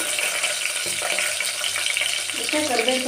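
Onions and mustard seeds fry in a pan, giving a steady close sizzle and crackle that runs the whole time, with some faint clatter and low voice murmur beneath.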